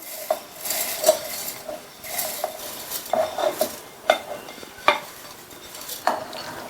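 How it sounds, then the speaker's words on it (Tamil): Clinks and light taps of utensils against a dry mixer jar as ingredients for a flattened rice and peanut laddu go in, scattered irregularly over a quiet kitchen background, with no talking. "ரெண்டையுமே மிக்ஸி ஜார்ல சேர்த்துக்கலாம்."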